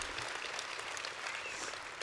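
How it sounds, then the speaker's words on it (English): Brief, steady audience applause at a diamond-level recognition speech in Sydney, a soft continuous patter of many hands clapping at moderate distance. "Give them a big clap."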